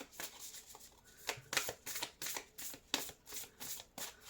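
A deck of oracle cards shuffled by hand, producing a quick series of crisp riffling bursts in an irregular rhythm, close and soft, with no voice over them.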